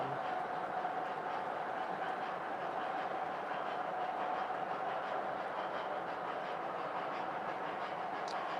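An MTH PS2 Hudson model train locomotive runs indoors, giving a faint steady rolling rumble and soft rhythmic clatter with a thin whine throughout, and no other sounds stand out.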